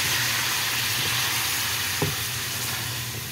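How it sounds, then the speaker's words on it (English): Heavy whipping cream poured into a hot pan with garlic gives a loud, dense, steady sizzle with one brief stirring knock in the middle. "I'm gonna add 1 cup of heavy whipping cream to the mix"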